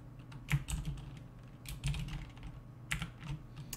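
Bursts of rapid clicking from a computer keyboard, quiet and close, arriving in short clustered flurries separated by brief pauses.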